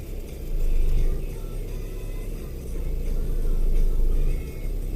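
A car's wheels spin while it climbs a snowy hill, giving a loud, steady low engine rumble that swells and eases as the throttle rises and falls.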